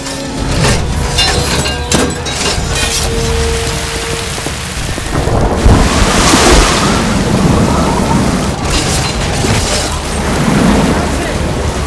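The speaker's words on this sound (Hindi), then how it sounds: "सिरसा नदी का पानी चढ़ता जा रहा है।" The rising Sirsa river rushes in an animated film: a loud, steady roar of churning water with deep rumbling swells, continuous throughout and with no speech.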